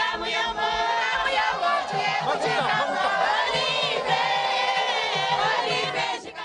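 A dense crowd cheering and chanting in welcome at Tshikapa airfield, many voices blending into a loud, continuous roar with overlapping shouts and chatter throughout.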